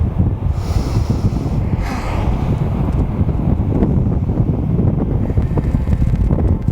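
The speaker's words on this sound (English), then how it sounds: "Wow, it is so windy here today" Strong wind buffets the microphone with a constant low roar and rumble, loud and unbroken throughout, with no voices.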